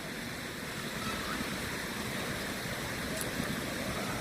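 Water pours steadily from an upper resort pool down into a larger swim-up bar pool, a soft continuous rushing wash heard from a short distance with no talk.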